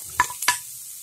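Raw mango pieces dropped into a pan of sizzling turmeric and chili, two quick clattering splashes over a faint low sizzle, close and brief.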